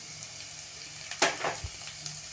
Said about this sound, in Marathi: तेल तापायला ठेवलं होतं त्यामध्ये लसूण चिरलेला बारीक चिरलेला तो घालूया